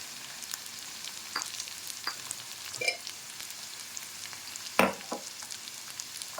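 Chopped cluster beans cook in a pan with a soft, steady frying sizzle, broken by a few brief clinks and stirring scrapes, no talking.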